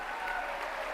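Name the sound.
applause in church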